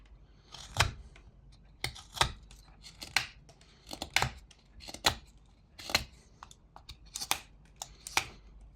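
A knife whittles a small wooden duck with a series of about ten crisp, separate cutting and shaving strokes at an uneven pace, close and quiet, with near silence between the cuts.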